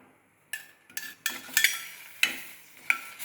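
Okra being sautéed in coconut oil, with a spoon stirring the pan: sharp scraping clatters against the metal arrive in separate bursts over a quiet bed of sizzle, close by and loud, with no talking.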